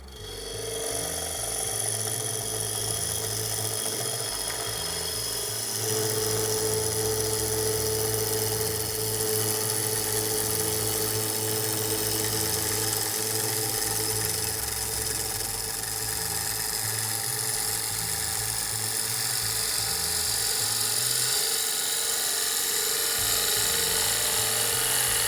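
A large wood bowl spins on a lathe while it is turned down smaller, giving a continuous steady mechanical drone and hum with a faint scraping tone, loud and unbroken for the whole stretch.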